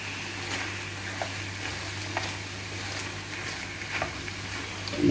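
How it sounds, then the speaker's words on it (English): German smoked pork sausage sizzles in a pan of sauce, a steady close frying hiss with scattered soft pops and stirring clinks and no talking. "now I'm going to add my German smoked pork sausage"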